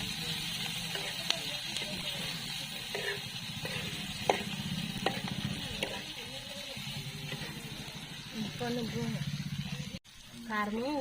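Onions frying in a little oil in a pan in a village kitchen, making a steady, moderate sizzle with occasional stirring clicks while people talk over it.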